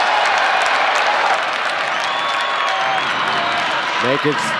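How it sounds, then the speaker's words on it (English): A packed stadium crowd at a Delaware versus Louisiana Tech homecoming college football game roars and cheers continuously and loudly, with a brief voice breaking through near the end. "This crowd is rocking on homecoming"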